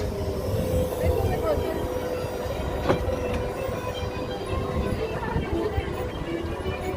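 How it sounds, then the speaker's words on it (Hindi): A tourist train rolls past outdoors in Geneva, Switzerland, its wheels rumbling and clattering steadily at moderate distance amid street ambience, with a faint squeal and a brief click partway through. "ट्रेन भी है इधर टूरिस्ट के लिए"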